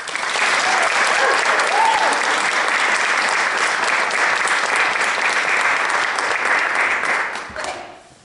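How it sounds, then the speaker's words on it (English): Dense, sustained applause from a theatre audience fills the space for about seven seconds, steady and loud, before tapering off quickly at the end. "Clap your hands for the rabbit and the bear so they can take their seats."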